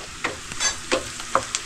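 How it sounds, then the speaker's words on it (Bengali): Onions fry in a pan at a campsite cooking stop in Ladakh. A soft, close sizzle runs under sharp scrapes and clicks from stirring, with no voices. "এটা পেঁয়াজ ভাজা হচ্ছে"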